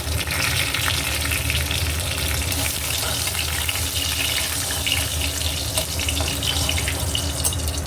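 Cumin, whole dried chillies, split cardamom and bay leaves crackle in hot oil, a loud continuous close sizzle with spattering pops throughout, no voices.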